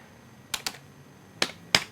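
Keys tapped on a computer keyboard, four sharp clicks close to the microphone, two in quick succession and then two more after a brief pause, in an otherwise quiet room.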